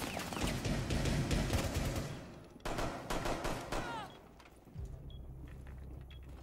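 Gunfire in the game Rainbow Six Siege: dense bursts of rapid shots for several seconds, a pause, then more sharp volleys, followed by quieter mechanical clatter and a low rumble near the end.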